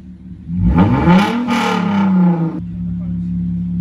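A Hyundai Genesis BK1 coupe with a new aftermarket exhaust revs hard nearby, its pitch climbing sharply and holding before falling back to a lower steady idle drone.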